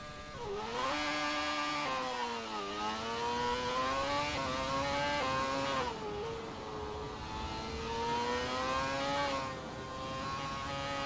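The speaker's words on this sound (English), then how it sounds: "Here comes Martin Beauty in the Ferrari F138." A Ferrari F138 Formula One car screams around Goodwood in Assetto Corsa, its high-revving engine climbing in pitch and dropping at each quick gear change, with several rising sweeps, loud and continuous with no talk.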